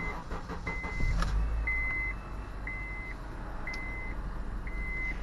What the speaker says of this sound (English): Let's go ahead and turn the vehicle on.